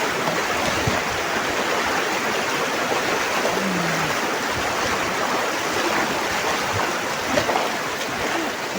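A flooded village river rushes past in a dense, steady roar of water, loud and unbroken throughout, close at hand, with no voices.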